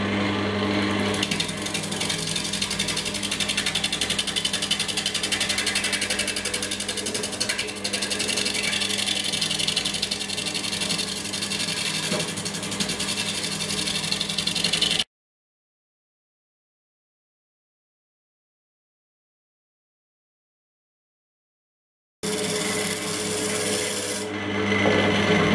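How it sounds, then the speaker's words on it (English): A log held between centers on a wood lathe spinning at about 700 rpm while a tool rubs and rasps it round, a loud steady scraping drone that stops abruptly for several seconds, then resumes. "I have my log in between centers and we're just going to make it round"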